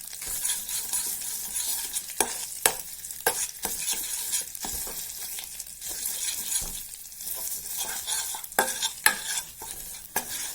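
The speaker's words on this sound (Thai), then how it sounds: "ไฟอ่อนๆผัดให้พริกแกงมันหอมก่อนต้องเอากะทิลงนะ" Panang curry paste being stir-fried in a pan over low heat for a Thai egg curry, with a steady soft sizzle and repeated scraping strokes of a spatula, close and alone without talk.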